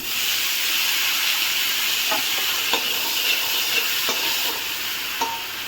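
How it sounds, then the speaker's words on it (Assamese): Chopped tomatoes fry with onions, turmeric and green chillies in a pan, a loud, constant hissing sizzle with a few soft spatula scrapes mixed in. "বিলাহীখিনি ভালদৰে ভাজি ল'ম।"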